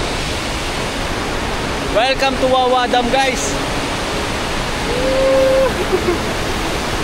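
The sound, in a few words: strong waterfall at Wawa Dam spillway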